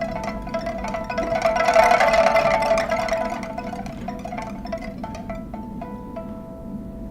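A solo pipa imitates flowing water with rapid tremolo plucking and rippling runs, swelling in the middle then settling into sparser repeated bright notes, played alone.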